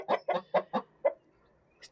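A broody hen clucks close by, five quick throaty clucks in an irregular run, then a short pause and a faint higher note.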